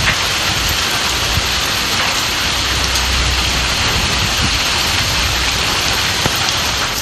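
Heavy rain pours down in Erode, Tamil Nadu, during a storm with strong winds, a dense, loud, unbroken hiss of drops striking surfaces for the whole stretch.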